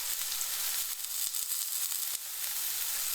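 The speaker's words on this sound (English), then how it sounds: "Yeah, that sizzle." Steady, loud sizzling and crackling of an Aldi Louisiana BBQ steak searing in a hot pan, a dense hiss with small pops throughout.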